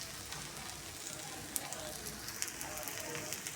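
A jowar flour dhirde pancake roasting on a hot pan, giving a steady close sizzle and crackle with occasional small pops throughout.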